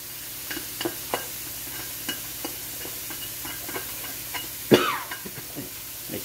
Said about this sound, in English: Now I'm going to add in the hot peppers and the cilantro.